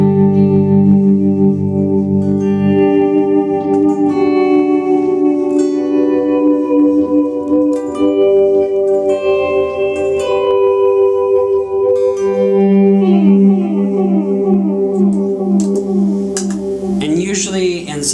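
Electric guitar swells fed through delay and other effects pedals, sustained notes fading in and layering with echoing repeats and shimmering tails, loud and continuous, with a cascading run of delayed notes near the end.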